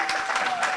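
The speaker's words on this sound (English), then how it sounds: "Another round of applause" Audience at a university research week event applauds, a brief burst of steady clapping from a crowd in a hall.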